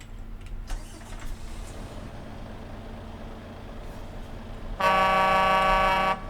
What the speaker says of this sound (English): A low pitch horn